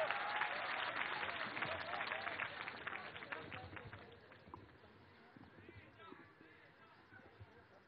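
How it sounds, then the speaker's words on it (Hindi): Audience applause at a Hindi kavi sammelan poetry gathering welcoming a visiting poet from Gwalior, loud and dense at first, then thinning and fading over several seconds with some crowd murmur beneath. "एक बार जोरदार तालियों के साथ ग्वालियर से हमारे बीच आए हुए तेज नारायण बेचैन का स्वागत कीजिएगा।"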